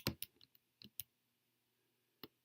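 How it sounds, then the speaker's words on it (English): Numbers are keyed into a calculator as a handful of sharp, close button clicks in short irregular bursts, with a quiet gap before one final press. "I'm just typing these in."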